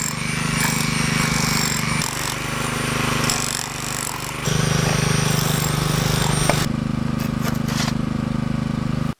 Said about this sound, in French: Le marteau-piqueur pour percer, dans le scellement des bordures, le logement des tuyauteries portant les buses.